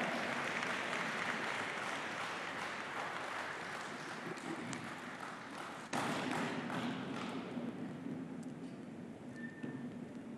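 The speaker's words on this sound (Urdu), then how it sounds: "خواتین و حضرات، استقبال کیجیے گا آپ کی بھرپور تالیوں میں وزیر اعظم پاکستان عمران خان" Audience applause welcoming Pakistan's Prime Minister Imran Khan at a Balochistan event, a steady, dense roar of clapping sustained throughout, slightly distant, with a brief dip partway before it continues.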